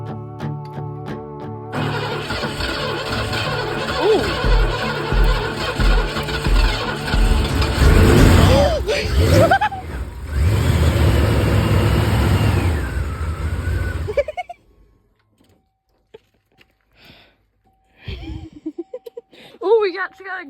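An old bricknose pickup truck, freshly fitted with a new spark plug, cranks and catches, then runs roughly with uneven revs for about twelve seconds before cutting out, leaving quiet with scattered voices nearby.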